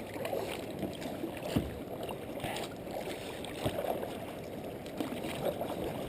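A kayak moves across wavy water, giving a steady splashing wash with soft paddle strokes and occasional louder slaps against the hull, faint and nearby.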